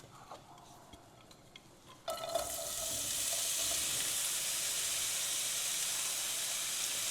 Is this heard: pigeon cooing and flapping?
no